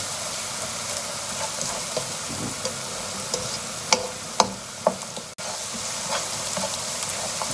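Onion and garlic sautéing in a pan for Lahori chicken and chickpeas, a steady close sizzle with sharp clinks and scrapes of stirring scattered throughout, no voices.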